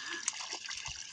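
Water flowing and trickling outdoors near a farm, a steady close wash of running water that continues without a break, with faint voices mixed in underneath.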